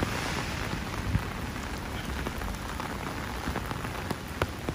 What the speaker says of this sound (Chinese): 好大雨喎，要開遮喎